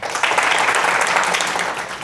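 Audience applause at a teachers' talk, a dense burst of many hands clapping together, loud and sustained for about two seconds with no speech.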